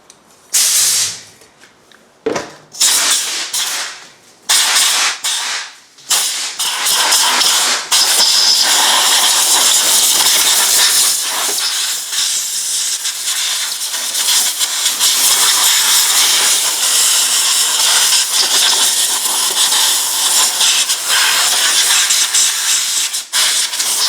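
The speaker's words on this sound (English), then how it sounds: "I'm just going to blow that off in there with some compressed air" Compressed air hisses loudly in short bursts, then in a long continuous blast, cleaning around the spark plug coils of a 2010 Ford F150 with the 5.4L three-valve engine, heard up close.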